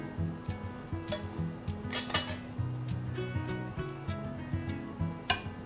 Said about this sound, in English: We're just gonna take a tongs and get some out, and then we're gonna use a ladle to get the sauce out.